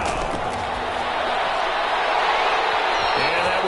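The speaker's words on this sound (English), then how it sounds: "3rd and 4, and this crowd urging on their defense" Stadium crowd in a football video game roaring steadily for the defense on third down, a dense continuous wash of cheering and noise with faint announcer-like voices mixed underneath.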